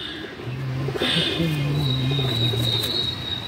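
A Madrasi pigeon, an old-generation female, coos in low repeated murmuring phrases close by, with a thin steady high tone and faint chirps in the background.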